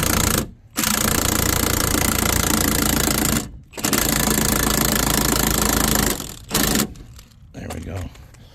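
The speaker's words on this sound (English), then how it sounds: "If you have a 17mm socket and an impact, you can jack it up a lot faster with it." An impact wrench fitted with a 17mm socket raises the jack under a Mercedes GL 550 with a flat tire, loud rattling hammering bursts broken by short pauses, close up, trailing into quieter clicks at the end.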